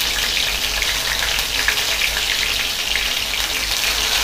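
Soya chunks coated in masala and yogurt fry in oil, giving a loud, dense, continuous sizzle close by that barely changes, with no voices.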